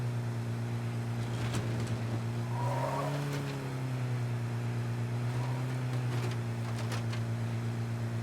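Car driving in a State of Decay 2 zombie survival game, a steady engine drone with a gently shifting pitch, running close and continuous throughout with faint clicks and effects over it.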